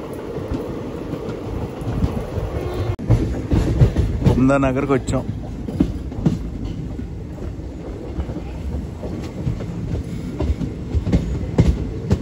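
The Aurangabad Guntur Express passenger train rolls along with a steady rumble and rattle of carriages, and a brief squeal rises midway while someone talks over the noise.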